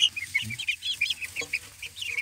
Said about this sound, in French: On voit bien la différence entre coques ici et les poules.